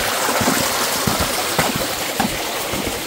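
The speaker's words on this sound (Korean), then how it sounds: "겨울물이 졸졸졸졸 흘러내려오는 소리가 참 듣기가 좋습니다." Steady rushing and trickling water of a winter mountain valley stream runs continuously at moderate volume with no voices over it.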